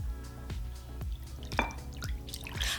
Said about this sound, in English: add your wet ingredients into that little hole you just made